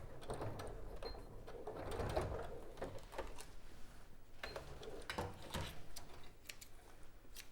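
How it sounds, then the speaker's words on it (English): A sewing machine runs in short bursts, stitching a few small securing stitches along the edge of velvet fabric for a bag, with a steady mechanical whir and faint clatter close by. "We're just going to do a couple of little stitches down here, just to secure on the edge of that fabric."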